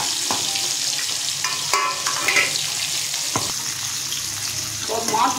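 Pieces of katla fish fry in hot oil, giving a dense, continuous sizzle close by. Occasional sharp spatters and soft knocks from turning the fish rise above the hiss.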